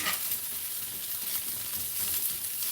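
Cheap sausages (snags) and onions sizzle steadily in a frying pan, a dense continuous crackling hiss with no pauses and no talking.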